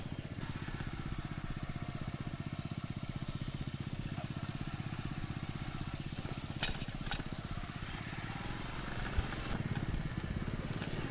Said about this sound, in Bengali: চলো বাইক রাইডিং করো